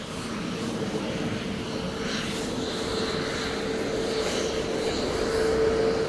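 An aircraft lands at Dublin Airport on runway 28 left. A steady, distant jet roar holds throughout, faint but continuous, with a rising whine near the end.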